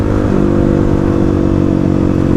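A Harley motorcycle engine idles and then pulls away on a test ride, a loud, close, lumpy low rumble that steps up in pitch as it rolls off.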